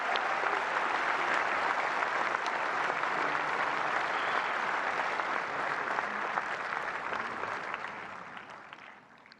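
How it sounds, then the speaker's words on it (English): A large audience at the India AI Impact Summit applauds the Prime Minister with sustained, even clapping that fills the hall for about nine seconds before gradually tapering off, with no talk over it. "Give a big round of applause for the Honorable Prime Minister."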